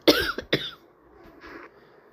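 Two sharp, close coughs in quick succession from a person with a sore throat, followed by a quieter throaty rasp and then near silence.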